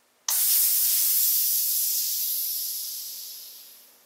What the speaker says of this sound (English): Before you release all the air out of your fork, make sure you memorize how much air is already in there